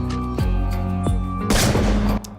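Gunfire in a Better Call Saul episode: a couple of sharp low thuds with a tonal hum underneath, then a dense, noisy burst of crackling shots for under a second before it cuts off.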